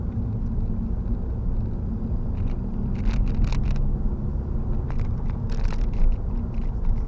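A 2015 Honda Civic takes a tight corner and shifts into third, heard from inside the cabin as a steady low engine and road rumble with a few faint clicks and ticks over it.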